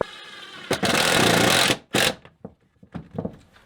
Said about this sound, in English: When you toenail by doing the screw in at an angle like this